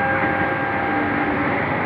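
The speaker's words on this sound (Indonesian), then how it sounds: "Nah, ini KRL yang ke Jakarta Kota ini." A KRL commuter train bound for Jakarta Kota runs at Pancasila station, a loud, steady rumble with faint tonal whine and no speech.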